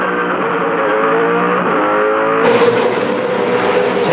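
Race cars roaring hard as the field accelerates away from a safety car restart at the Hamilton 400 street race, a loud continuous engine blare with a sharp gear change and rising pitch near the end.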